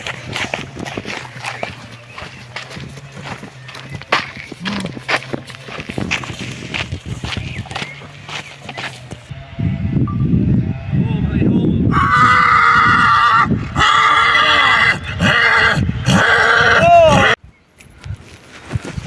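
Hooves clop on the ground while a mare whinnies loudly several times near the end; people talk over the sounds.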